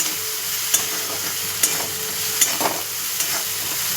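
Stirring red chilli powder, homemade masala and turmeric into frying bitter gourd produces a loud sizzle broken by regular scraping strokes and spoon taps, about one every second, close up.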